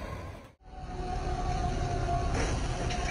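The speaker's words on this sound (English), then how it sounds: "A train collides with a car off Highway 99" A train rumbles loudly past a highway crossing after colliding with a car, a steady heavy roar with a faint ringing tone above it and a brief dip near the start.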